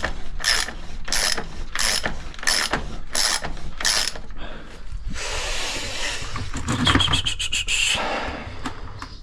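A ratchet wrench clicks in short rhythmic bursts while unscrewing a part on a motocross front wheel during bearing work, followed by scraping and a rapid run of ratcheting clicks; loud and close.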